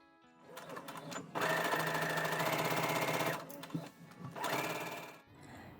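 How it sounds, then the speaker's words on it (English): A sewing machine stitches the seams of a slippery-fabric Norma Jean wrap dressing gown, its motor whirring in two close, steady runs with a short pause between them. "Pin the seams and sew and finish."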